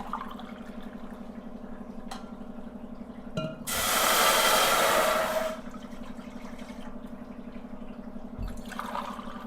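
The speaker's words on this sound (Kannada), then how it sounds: "ನಾನು ಈ ಗ್ಲಾಸಿಂದ ನಾಲ್ಕು ಗ್ಲಾಸ್ ನೀರನ್ನ ಹಾಕ್ತಿದ್ದೀನಿ" Water pours from a glass into a pot in a short steady splash for about two seconds over a low constant hum, with quiet kitchen clatter before and after.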